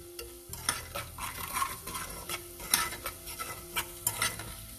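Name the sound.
sautéing dry masalas in oil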